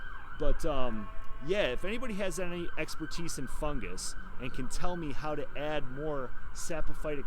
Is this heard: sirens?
yes